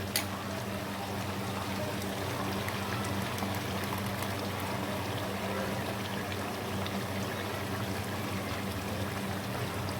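Yogurt goes into a beef karahi cooking over a flame, producing a steady, close bubbling and sizzling hiss that runs evenly with no pauses.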